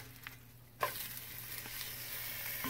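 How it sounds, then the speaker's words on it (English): Cheese frying in a hot pan beside breakfast-sandwich eggs and muffins gives a steady, close sizzle that jumps up abruptly after a quiet start and holds on with a light crackle. "So that cheese is going to sizzle on the pan"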